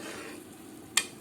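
Potato curry sizzles steadily in hot oil in a pan, a continuous close frying hiss with one brief sharp crackle pop near the end.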